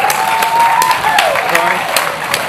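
Crowd at an outdoor chilli eating contest in Dorset breaks into a loud, steady round of clapping, individual claps standing out near the front, with voices and a whistle-like tone mixed in beneath.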